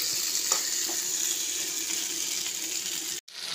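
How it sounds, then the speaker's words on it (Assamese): Hot boiled water pours into a pan of meat frying with papaya, a steady hiss of sizzling and splashing running throughout, close and continuous, with a brief cut near the end. "এতিয়া গৰম কৰি লোৱা উতলা পানী দি দিছোঁ"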